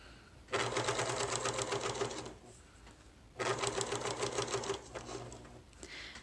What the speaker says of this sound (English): we will sew it with a 1/4 inch seam allowance